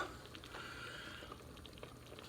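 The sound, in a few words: meat boiling in a pot for low-carb soup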